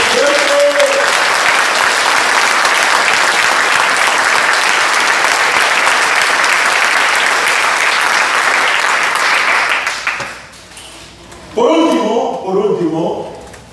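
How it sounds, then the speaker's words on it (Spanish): A church retreat congregation breaks into loud, sustained applause for about ten seconds, then it fades and a voice speaks briefly near the end. "Un aplauso al Señor."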